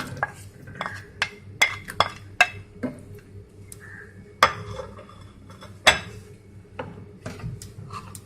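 Chopped tomato, spices and cashews go into a cooking pot for butter chicken, giving a string of sharp metallic clinks and taps of utensil against the pan over a low, steady background hum.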